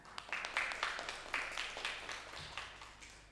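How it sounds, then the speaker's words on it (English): Audience applause for keynote speaker Professor Fumihiko Imamura at the AIWEST-DR 2021 conference, a thin spread of claps that swells briefly and then tapers off. "Let's give applause for Professor Fumihiko Imamura."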